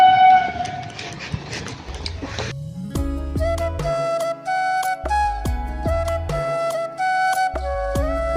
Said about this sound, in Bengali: তো গাইস ফাইনালি ট্রেন চলে এসছে